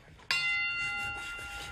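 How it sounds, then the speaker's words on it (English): A boxing ring bell struck once, a sharp clang that rings on with a long, slowly fading metallic tone, heard alone. "you hear the bell"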